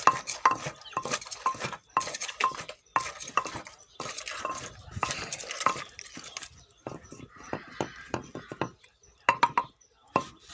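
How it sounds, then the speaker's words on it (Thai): Papaya salad with fresh field crab pounded and tossed in a mortar, giving close, irregular knocks, clinks and scraping bursts separated by brief pauses, with no talk. "นี่ครับตำครับคลุกเขาให้เข้ากันนะครับ"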